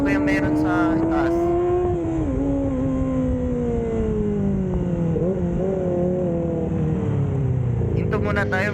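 Motorcycles idle and rumble on a road with a steady, loud engine drone under passing engine tones. A voice talks over it in places.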